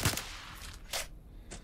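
A rifle loaded with special ammunition fires in Stalker: Clear Sky with the Arsenal Overhaul mod, giving three separate sharp reports. They are spaced unevenly and fairly faint, with short pauses between shots.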